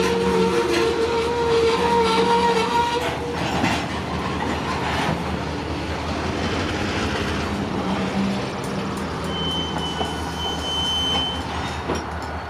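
A freight train hauled by old blue Conrail locomotives rolls past up close, with a continuous loud rumble, rhythmic wheel clatter and occasional faint wheel squeals throughout.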